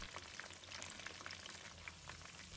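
Chicken frames are deep-fried a second time in very hot oil over a medium flame, giving a soft, continuous bubbling crackle dotted with quick pops, heard close and alone.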